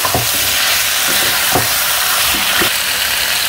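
Chicken and spices sautéing in a pan for a village-style chicken curry give a loud, constant sizzling hiss close up, broken by a few dull knocks of a spoon stirring against the pan.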